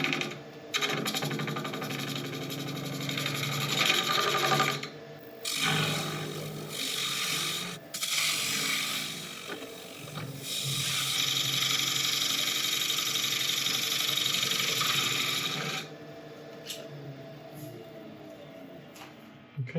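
An African mahogany bowl spins on a wood lathe as a tool makes quick cleanup passes, a loud close rasping scrape that starts and stops in several bursts over a steady motor hum.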